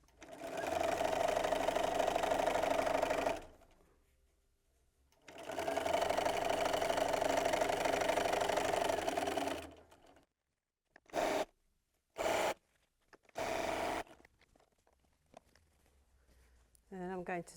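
Sewing machine chain piecing batik fabric scraps runs in two long steady bursts, then several short stitching spurts with pauses between, close and loud, no talking.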